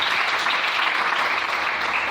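A church congregation breaks into applause in praise, a dense, steady wash of clapping that stays strong throughout the short burst.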